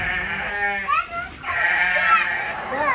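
Full-blood registered Dorper rams bleat close by on a farm, with several wavering calls overlapping across a few seconds.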